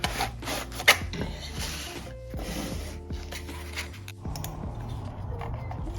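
Crinkly rustling and scraping of packaging being handled up close, with a few sharper crackles and rubs, continuous throughout.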